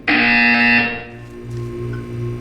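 Portal 2 video game buzzer: one loud, sustained electronic tone lasting about a second, followed by a fainter lingering hum.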